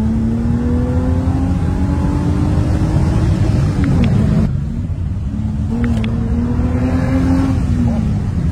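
A 1989 BMW 525i E34 with its naturally aspirated M20B25 straight-six accelerates hard. The engine note climbs steadily and loud through one gear, drops briefly at a shift, then pulls again, heard from inside the car.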